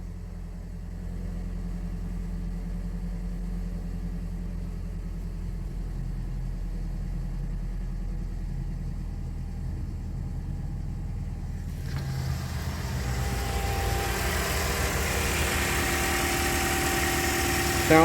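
A 2010 Toyota Corolla with a 1.8 litre engine idles smoothly after ignition coil and spark plug replacement, a steady low rumble that continues for the whole stretch and grows slightly louder and brighter with rising hiss near the end.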